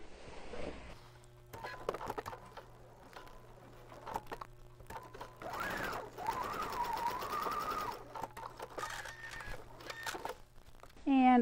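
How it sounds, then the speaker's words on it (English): Sewing machine stitching the fabric backing of a self-binding placemat, running in long steady bursts with brief pauses, close and fairly loud. A person talks over much of the stitching. "We just want to sew the backing."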